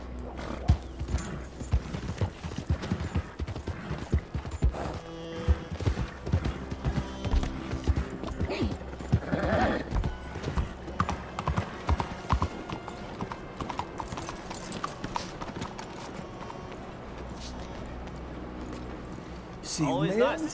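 Steady clip-clop of horse hooves throughout in Red Dead Redemption 2, with a horse whinnying at moments and someone talking over it.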